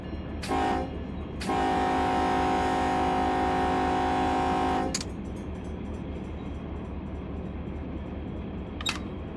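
Diesel locomotive horn in the Run 8 train simulator, on a Norfolk Southern local freight: a short blast, then a long, steady, loud blast of about three and a half seconds over a low engine rumble.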